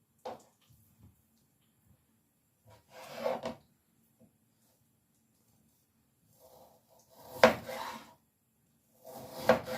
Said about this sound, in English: there's a little bit of fat on this one that I'm going to remove right now